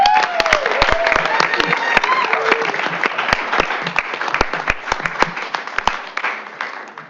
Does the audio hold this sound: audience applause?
yes